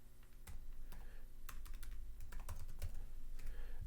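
Rapid typing on a computer keyboard at a command prompt, with steady, uneven clusters of close key clicks continuing throughout.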